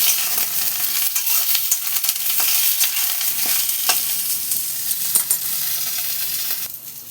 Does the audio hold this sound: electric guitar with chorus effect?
no